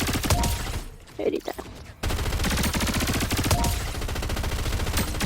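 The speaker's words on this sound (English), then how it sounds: "There's a hollow rush SMG" Hollow Rush SMG firing in Fortnite, rapid sustained bursts of close, loud automatic gunfire with a short pause between strings, while a voice speaks briefly.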